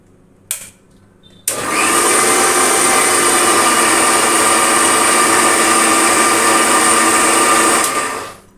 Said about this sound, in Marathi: आणखीन एकदा नारळ मिक्सरमध्ये फिरवून त्याचं दूध काढूया